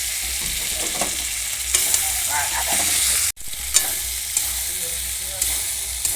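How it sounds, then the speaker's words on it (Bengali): Spices sautéing in oil for an aloo chingri curry, steady close sizzling with scraping stir strokes and brief clinks, with one sharp momentary break partway through. "ভালো করে মশলাগুলো কষিয়ে নেব।"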